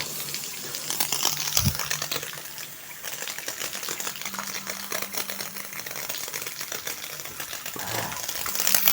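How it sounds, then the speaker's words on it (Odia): Village supply water runs from a tap in a steady, continuous gush that stays fairly loud and close for the whole stretch, with faint clicks and movement in the background. "ହେଲେ ଏଠି ଏନି ଟାଇମ୍ ଚାଲୁଛି ପାଣି"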